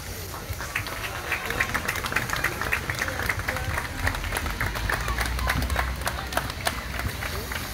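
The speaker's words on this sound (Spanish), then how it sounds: "Un aplauso nuevamente para estos jóvenes" Audience applause for young performers, some of them deaf, with scattered sharp claps over a continuous crowd murmur and low rumble, moderately loud and sustained.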